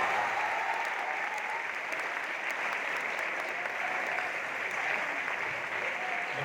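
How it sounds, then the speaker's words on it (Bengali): An audience in a school setting gives sustained applause for the class XII team at an annual quiz competition, a dense, even clapping that carries on throughout. "খুব ভালো 12-এর জন্য একটা জোরে হাততালি হোক আমাদের"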